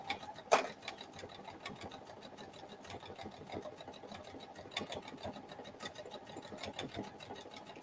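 A sewing machine runs steady decorative top stitching around a fabric potholder, a quiet continuous whir with faint rhythmic ticking and one sharp click near the start.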